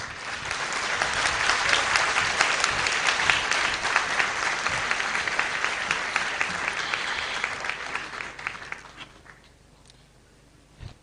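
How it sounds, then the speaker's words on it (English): An audience at an advocates' gathering breaks into a big round of applause, dense steady clapping that builds, holds strongly for several seconds, then tapers off and fades near the end. "A big round of applause, please."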